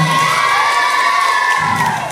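Loud, continuous cheering and shouting from a crowd of school children at a school closing ceremony, a sustained wash of voices.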